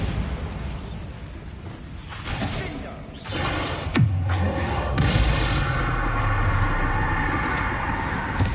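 Bombarda blasting spell in Hogwarts Legacy, a booming explosive impact with rumbling debris and whooshing effects among game sounds and a voice calling out.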